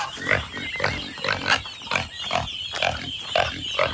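A farm pig grunts and squeals in a quick irregular series of close, moderately loud calls, about a dozen bursts over a few seconds in a rural setting.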